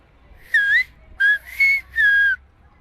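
Silbo, the whistled language, is heard as four loud, clear whistled phrases, each a pure, gliding pitch separated by short silences, close and alone against near-quiet.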